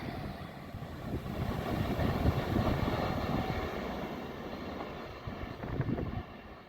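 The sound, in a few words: train accelerating through Crossgates station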